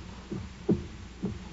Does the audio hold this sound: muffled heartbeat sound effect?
yes